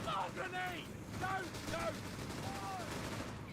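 Distant crackling gunfire and explosive rounds rumble continuously in a Company of Heroes 3 battle, a dense battlefield din with faint tonal whistles rising and falling throughout.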